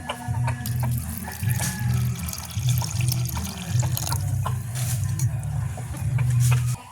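Water is poured steadily into lentils for cooking in a village kitchen, a close, continuous splashing and trickling flow with small drips throughout.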